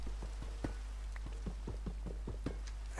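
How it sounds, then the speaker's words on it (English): Rain falling in the video game Minecraft, a soft patter of scattered drops over a low constant hum, fairly quiet and without speech. "now it's raining on our infinite cobble gen."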